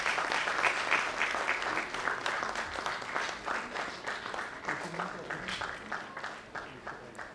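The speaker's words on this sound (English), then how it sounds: "Big round of applause." An audience at a stage performance bursts into applause for the accompanying musicians, a dense continuous clatter of many hands that holds strong and then gradually thins out.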